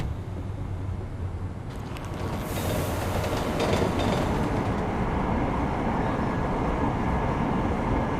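Non-augmented train ride in Deus Ex Mankind Divided, a steady loud rumble of rolling rail cars that swells after a couple of seconds, with faint clickety-clack and brief metallic squeals layered in, no speech.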